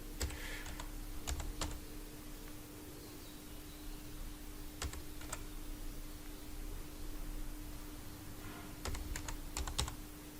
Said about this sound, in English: Now type the IP address